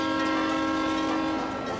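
A train horn blares in a steady, loud sustained tone, close by, with the rumble of passing rail cars underneath.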